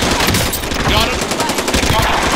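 Dense, continuous gunfire from an online match of the Call of Duty: Modern Warfare video game, loud and close, with overlapping shots and battle noise throughout and voices mixed in.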